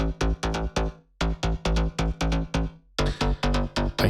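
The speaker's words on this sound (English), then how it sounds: "Can you hear how punchy that bass sounds now?" Punchy low-pass filtered bass near 100 Hz, produced in Ableton Live, pumps in short rhythmic hits, one group of four, a pause, then further groups, loud and alone.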